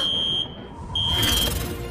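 An alarm blares in an animated adventure cartoon, giving two loud, piercing, sustained electronic beeps separated by a short gap, over a rumbling background.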